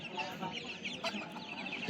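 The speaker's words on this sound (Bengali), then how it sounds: "এটা মুরগি" Chickens cluck quietly and steadily at a busy poultry market in Narsingdi, with market murmur behind them and a sudden loud knock at the very end.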